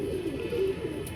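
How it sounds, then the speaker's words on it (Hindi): Pigeons cooing close by, soft low throaty calls repeating in a steady murmur over a faint background hiss, with no voices present. "कबूतर।"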